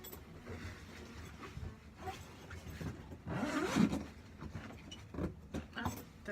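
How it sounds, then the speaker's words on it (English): Zippers on a cello case are drawn open along both sides, a few short scratchy zips with a louder pull midway, close and fairly quiet amid faint handling noise. "so you're going to unzip both sides."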